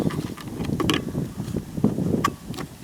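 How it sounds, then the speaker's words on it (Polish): Strong wind roars across the microphone in a steady low rumble in a Polish forest, with gusts swelling and fading and faint rustling on top. "ten wiatr jest strasznie mocny"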